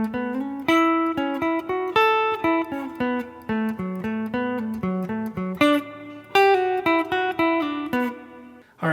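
A clean electric guitar plays a nine-second phrase from a 7/30/77 guitar solo, a busy stream of rapid picked and slid notes with brief gaps, bright and up close, no talking.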